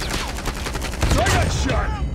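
Rapid bursts of automatic gunfire in Call of Duty Mobile, a dense rattling fusillade that grows louder and heavier midway, with faint game voice lines underneath.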